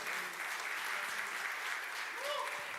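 Church congregation applauding the Lord during a service, a broad even patter of many hands clapping at a distance, with a brief voice surfacing near the end.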